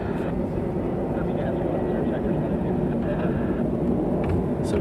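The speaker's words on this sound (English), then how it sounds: "Yes, we've got some F-16s taxiing out" F-16 fighter jets taxiing at RAF Lakenheath, a steady broad engine roar and whine holding at constant loudness with no breaks, fairly close and dominant.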